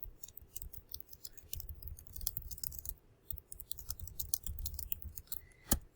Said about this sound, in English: I could just hit enter and keep typing